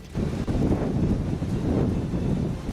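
Strong cyclone winds batter the coast at Kalingapatnam in Andhra Pradesh, a loud continuous roar of gusting air buffeting the microphone, with possible surf rumble underneath and no speech.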